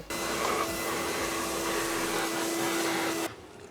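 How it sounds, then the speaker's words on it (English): A vacuum cleaner runs inside a car with the front seat removed, with a loud, steady roar and a constant hum, then cuts off abruptly near the end. "we're gonna vacuum this while we have the seat out"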